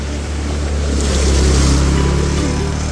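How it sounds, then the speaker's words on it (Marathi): A vehicle pushes through rain floodwater past a nursery, with a loud, constant rushing wash of water over a low engine drone, close and continuous. "आता बघू शकता गाडीवरून किती पाणी होते"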